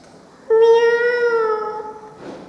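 A voice imitates a cat with one long, drawn-out meow, steady and fairly loud, ending in a breathy trail.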